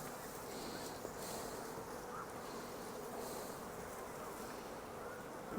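Honey bees buzz steadily and continuously around an opened hive during an early-season inspection, a dense close-up drone with no talking.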